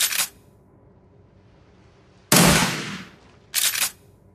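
Gunfire in the turn-based game Shadowrun Returns: a short burst, then silence, then a louder, longer volley and a final shorter burst, each sharp and close.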